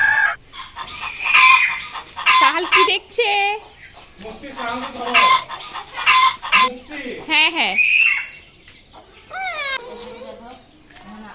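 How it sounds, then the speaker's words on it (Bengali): Roosters and hens cluck and crow in a pigeon and poultry enclosure, bursts of loud, close calls coming in uneven clusters, with people talking over them. "এখানে নাকি অনেকগুলো কবুতর অ্যান্ড কক মুরগি আছে"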